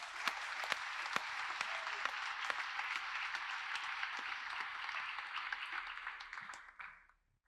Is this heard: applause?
yes